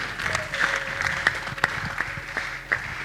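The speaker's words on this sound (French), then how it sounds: "Applaudissons pour elle." Audience applause at a seminar, scattered sharp claps with a few louder individual bursts standing out over a room murmur, moderately near and uneven in rhythm.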